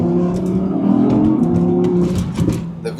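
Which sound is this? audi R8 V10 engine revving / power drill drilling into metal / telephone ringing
audi R8 V10 engine revving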